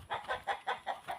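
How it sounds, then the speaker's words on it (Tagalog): Chickens wandering free on a farm cluck in a quick, even series of six soft calls, faint and close, with no one talking. "Marami itong mga manok dito sa farm mga idol."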